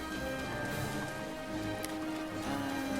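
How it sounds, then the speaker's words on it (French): Rainfall in The Legend of Zelda: Breath of the Wild, a steady soft wash of falling drops under faint game ambience, with no speech. "Oh super, il pleut."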